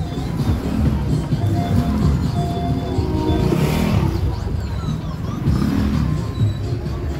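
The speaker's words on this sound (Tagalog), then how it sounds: "Ayan yung pila ng mga sasakyan." Idling cars line up in a long queue outside Diwata Pares Overload, a busy roadside pares eatery, their steady low engine rumble mixed with crowd chatter and street noise throughout.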